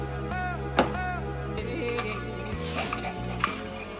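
Garlic paste frying in oil while a spoon stirs it around the pan, with scraping clinks and a steady sizzle beneath a low hum and faint tonal background.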